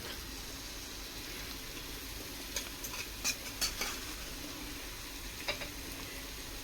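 Onions sautéing in butter in a small pan on a large gas burner for butter prawns, a low steady sizzle with a few sharp clinks and scrapes of a spoon stirring against the pan.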